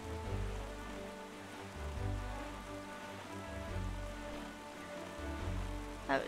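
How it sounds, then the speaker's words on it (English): Steady rain falling at nighttime in The Legend of Zelda: Wind Waker, a soft continuous patter mixed with quiet game music, faint and even throughout with no talking. "And it's raining!"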